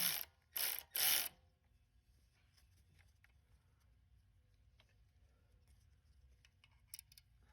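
A ratchet tightens a valve spring compressor tool on a Hemi engine with three loud, close clicking bursts in quick succession, followed by quiet workshop background with faint small metallic taps.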